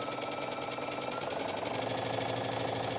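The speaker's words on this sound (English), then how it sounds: "So I'm just stitching with a straight stitch all the way down the side seam." A sewing machine runs a steady straight stitch down the side seam of a T-shirt, giving a continuous, close, fast mechanical whir with an even rapid rhythm throughout.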